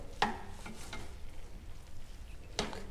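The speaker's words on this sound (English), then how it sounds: "And we're gonna stir it all together." A spoon stirs shrimp, sausage and rosemary in a single pan, with soft scraping and gentle sizzle plus a couple of sharper utensil knocks against the pan, close and steady with no speech.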